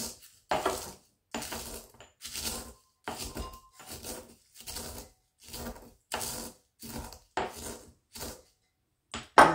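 Dried lemon and orange peels, onion skins and eggshells are smashed in a mortar with a pestle in a steady run of sharp crunching thumps, about twelve separate strikes, close and fairly quiet, with brief silences between them.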